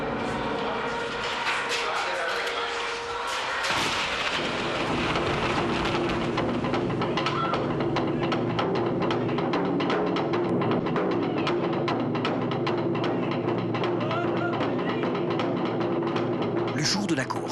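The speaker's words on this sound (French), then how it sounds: "l'orage qui menaçait a éclaté et le ciel est tombé sur la tête des pilotes" A thunderstorm pours rain on a Formula 1 race day. A steady, dense rain hiss and rumble runs throughout while a voice talks over it.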